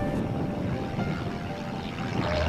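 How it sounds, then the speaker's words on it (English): Robinson R22 helicopter accelerating for takeoff on a blustery, turbulent day, a dense rumbling engine and rotor roar mixed with wind buffeting, steady and fairly close throughout. "And the aircraft is accelerating. 55 knots and up she goes."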